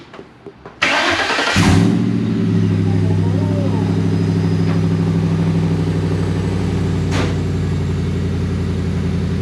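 A starter cranks briefly, then a Crown Victoria engine swapped into a Ford F100 truck catches and settles into a loud, steady rumbling idle close by, with a voice briefly audible.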